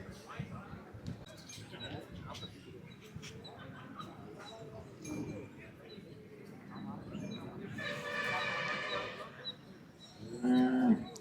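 Cattle moo loudly at a native cattle market in Palayakottai, with one long low call rising near the end, while people talk and chatter nearby throughout.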